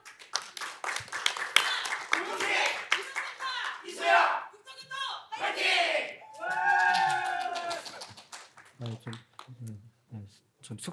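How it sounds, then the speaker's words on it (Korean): Scattered clapping breaks out from an audience at a Korean public-sector HRD contest final, welcoming presenters to the stage, with dense claps at first and then fading amid cheers and voices. "큰 박수로 맞이해 주세요"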